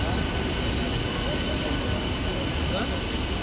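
A local train runs steadily into a station with a broad, continuous rumble and rattle that stays loud and even throughout. There is no clear talking over it.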